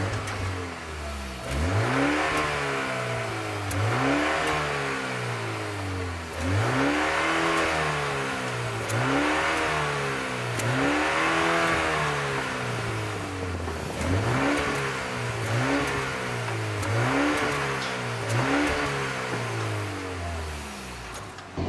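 A MINI Countryman JCW ALL4 in sport mode accelerates through several gears, its engine note repeatedly rising and dropping at each shift, heard steadily and moderately loud from inside the car with no talking.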